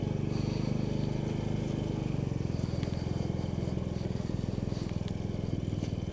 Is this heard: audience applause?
no